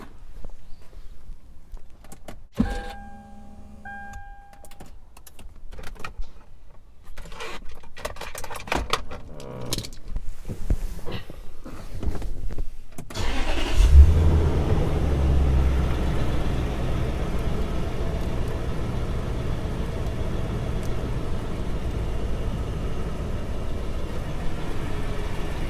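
A modified Toyota Land Cruiser 200 Series cranks after several seconds of clicks and handling noises, then catches and settles into a steady, rumbling idle that continues loud and even to the end, with no talk.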